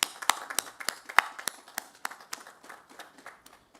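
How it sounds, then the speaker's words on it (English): At a hospital event where frontline workers are being vaccinated, a small audience gives a round of applause: a few people clap distinctly and sharply at an uneven rhythm that thins out toward the end. "Let's give them a round of applause."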